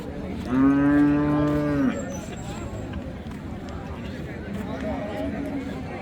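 Friesian cows at a village cattle market, one lowing with a long, loud moo near the start, then a fainter moo later over steady crowd murmur and chatter.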